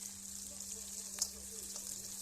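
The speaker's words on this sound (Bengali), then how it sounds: "এবার আমি বেরেস্তাটা ভাজার জন্যে কড়াইতে পেঁয়াজগুলো ভাজার জন্য দিয়ে দিয়েছি" Onions fry in a wok for birista with a faint, steady sizzle. A single small clink breaks the quiet hiss partway through.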